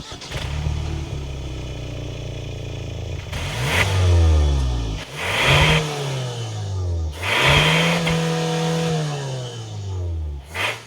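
A 2025 Hyundai Santa Cruz XRT pickup engine idles, then revs hard several times, each rev rising in pitch and falling back, loud and close with airy intake noise.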